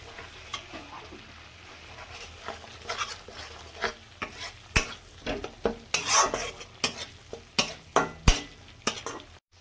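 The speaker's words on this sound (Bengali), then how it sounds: "এবার টমেটো কুচি দিয়ে ভালো করে মশলাটা কষিয়ে নেব।" Spice masala with chopped tomato being stirred and fried for a Bengali tangra fish tel jhal, a spoon scraping the pan in repeated clinks over a soft sizzle that grows busier toward the end.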